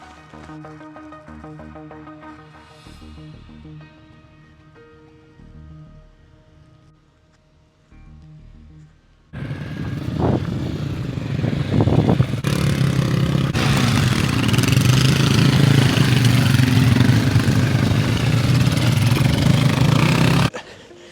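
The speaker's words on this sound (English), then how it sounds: "They just went through these dirt bikes through this little stream." Dirt bikes splashing through a small stream in the Lake District mountains: quiet outdoor ambience first, then loud, close engine roar mixed with rushing water that holds steady before cutting off.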